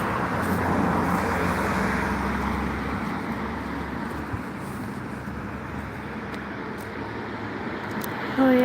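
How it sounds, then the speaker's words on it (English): Buses and other traffic rolling along a Dublin street, a low steady engine rumble and road noise passing close by, with voices faintly in the background. "there's quite a few buses here"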